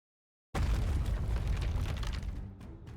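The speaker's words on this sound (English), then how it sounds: "I hear gunfire and explosions." A heavy explosion booms suddenly out of silence in the video game NIKKE, a loud broadband blast that rolls on and slowly fades away.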